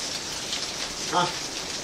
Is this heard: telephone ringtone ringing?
no